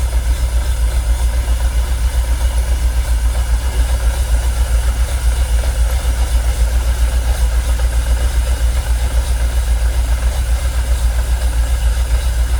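Jaguar XKR engine idling roughly with a fuel pressure fault, a close, steady low rumble with a pulsing, uneven beat running throughout, no voices.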